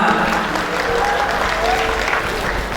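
Audience applause at a youth leaders' talk show in Malang, a dense steady clapping from a crowd filling the whole moment while a voice talks over it.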